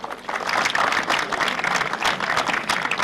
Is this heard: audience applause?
yes